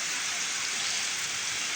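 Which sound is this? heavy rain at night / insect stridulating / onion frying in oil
heavy rain at night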